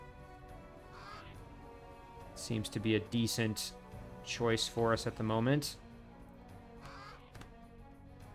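A Grimbeak Crow in Age of Wonders 3 gives a few faint caws beneath a voice as he talks over the game's quiet background.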